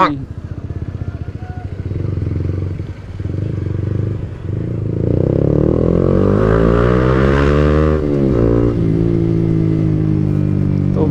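A motorcycle running low on fuel is ridden along a road toward a fair in Tangail, its engine droning and rising as it accelerates, loud and close, with someone talking over it.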